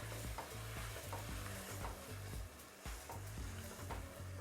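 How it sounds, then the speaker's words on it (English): Crushed canned plum tomatoes being stirred in a pot, a soft continuous sizzling bubble with repeated scraping strokes of the spoon, fairly quiet and without talking. "this is a 28-ounce can of plum tomatoes. I've already squished them all up so they're not whole. We're going to put those in. Give that a good stir around."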